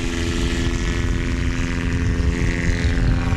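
A Legend Cub light aircraft's propeller engine drones loudly and steadily on takeoff during a STOL competition in Jennings, Louisiana, a continuous close roar with no voices.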